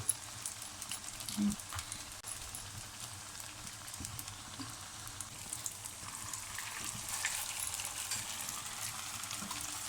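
Potato, chicken and noodle kebabs frying in hot oil, a steady low sizzle running evenly throughout with faint scattered crackles and occasional clinks, no voices.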